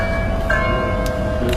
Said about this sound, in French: Vous entendez cette cloche, c'est une cloche par rapport à la bonne nouvelle que je viens de recevoir.